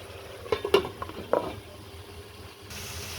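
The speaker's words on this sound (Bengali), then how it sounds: "এখন আমি একটু ভালোভাবে নেড়ে চেড়ে দিব" A spoon stirs a fish and pointed gourd curry in a cooking pot, giving a few close scraping, clinking strokes over a soft, steady simmering sizzle that continues after the stirring stops.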